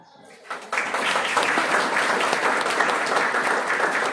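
An audience at an Amrit Mahotsav celebration, asked to stand, breaks into applause that starts after a brief lull and builds to a dense, sustained clapping roar.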